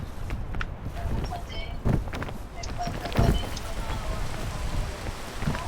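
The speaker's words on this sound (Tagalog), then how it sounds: "Ayun, umuulan na nga." Rain falling in the video game PEAK, a continuous hiss of drops on surfaces with scattered louder patters and soft thumps, while players chat faintly over it.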